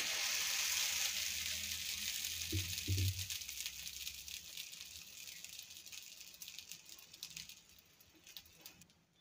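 Dosa batter, poured thick for a spongy Davangere-style dosa, sizzles steadily on a hot pan, a soft continuous hiss with a brief low clatter near the start, fading slightly toward the end.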